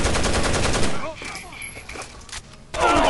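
Gunfire rattles in the video game Rainbow Six Vegas 2 during co-op play, loud machine-gun bursts at the start and end with a quieter stretch between, and players' voices mixed in.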